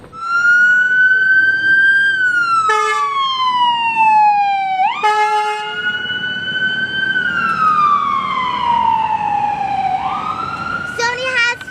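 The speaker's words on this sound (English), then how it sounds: "Somebody probably got hurt or sick, and the ambulance has to go by" A loud ambulance siren wails continuously in Washington DC, its pitch sweeping up and down as it passes close by, heard from inside a Tesla Model 3, with vehicle noise and faint voices underneath.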